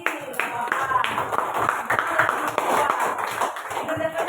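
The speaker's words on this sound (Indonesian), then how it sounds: "Tepuk tangan dulu untuk kelompok 2" A classroom of pupils applauds a group of classmates with scattered, ongoing hand claps of uneven strength, while voices chatter underneath.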